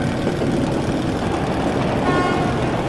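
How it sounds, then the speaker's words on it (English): In the Metro Last Light Redux video game, a train horn toots faintly over a dense, constant rumble of the train's engine and machinery. The horn sits low in the mix and the rumble stays loud throughout. "That's the train!"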